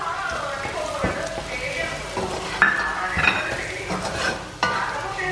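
A spoon stirs and scrapes roasted chilli, turmeric and coriander powders with onions in a sizzling pan for a country chicken curry. The irregular scrapes and crackle sound close and fairly loud.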